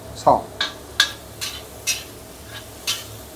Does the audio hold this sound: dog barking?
no